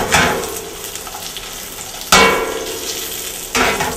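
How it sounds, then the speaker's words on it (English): Tomatoes sizzling and frying in a pan, with a steady crackle broken by two or three sudden loud pops as they burst, close up and with no talking. "I like the tomatoes to burst because they actually explode a little bit."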